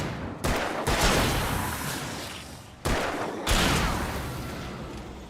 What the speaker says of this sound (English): Hunting rifle.